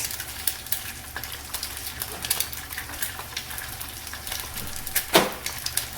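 Five eggs sizzle in a pan for pad thai over medium heat, a steady crackling fry with scattered pops and scraping stirs, one louder clatter near the end.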